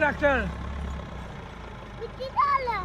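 A tractor's diesel engine idles with a steady low chug while a person talks over it at the start and near the end.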